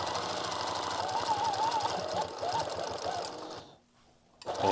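Sewing machine stitching in the ditch while quilting, a fast close mechanical chatter with a whirring motor that runs steadily, then stops briefly into near silence and starts again.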